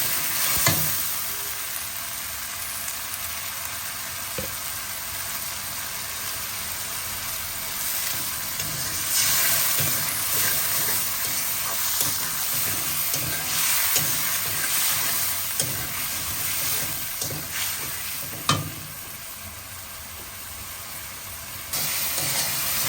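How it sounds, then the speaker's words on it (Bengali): Spices sauté in a pan for chicken and bottle gourd curry, a continuous hissing sizzle with occasional stirring clatter throughout, moderately loud and close, no speech. "দেখো মশলা কষানো হয়ে গেছে"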